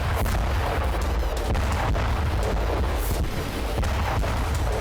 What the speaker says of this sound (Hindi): यूक्रेन की राजधानी कीव में रूस ने एक के बाद एक 40 मिसाइलों की बरसात की।